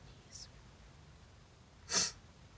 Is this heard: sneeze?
yes